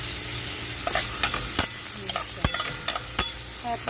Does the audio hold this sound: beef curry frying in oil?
yes